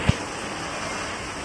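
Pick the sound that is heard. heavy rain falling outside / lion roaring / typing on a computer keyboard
heavy rain falling outside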